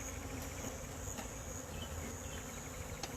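A steady, continuous honey bee buzz hums throughout, even and unbroken, with faint background hiss and no voices.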